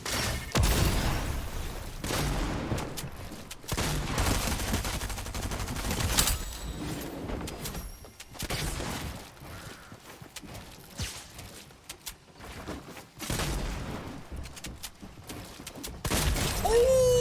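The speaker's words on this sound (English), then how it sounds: "wasn't sure if my shotgun was even reloaded there" Heavy shotgun blasts in a video game, dense repeated booming shots mixed with game effects and background music, loud and continuous throughout.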